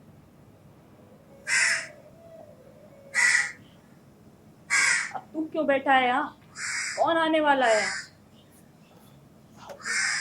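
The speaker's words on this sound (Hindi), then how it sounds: "कौवे कौवे उड़ जा" Crows caw loudly several times in separate bursts, with a few long drawn-out caws, alternating with a person speaking during a Hindi stage drama.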